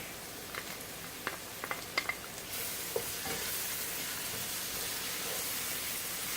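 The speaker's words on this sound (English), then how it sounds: "we've been sauteing the onions and the garlic for about 3 to 4 minutes on medium to medium-high heat" Diced onions and garlic sauté in a pan over medium to medium-high heat, a steady close sizzle with a few scraping stirs early on, then a louder continuous frying hiss, with no talking.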